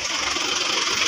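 Motorcycle engine with a broken exhaust, running at a loud, raspy, steady idle up close.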